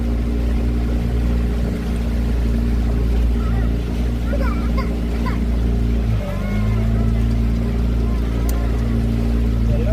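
The motor of a floating restaurant built like a boat drones on the water, a steady low hum that stays constant and close throughout, with faint voices murmuring in the background.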